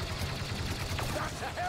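Blaster gunfire in the game Star Wars Battlefront II, a dense rattle of shots with a voice partly mixed in underneath.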